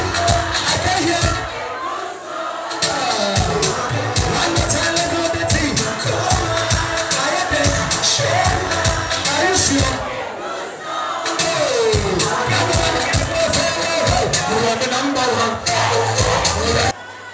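A large, loud crowd at a Ghanaian student talent show semi-final during national SRC week roars, cheers and applauds in a dense, sustained wash that breaks off briefly twice before surging back.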